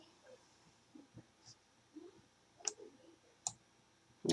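A computer mouse clicks a few times, sharp and close but fairly quiet, spaced irregularly over faint background noise.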